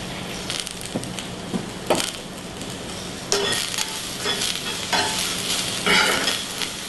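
Summer beans and other vegetables fry in an enameled pan while being stirred, a close steady sizzle broken by scraping, knocking strokes of the utensil and occasional louder clatters.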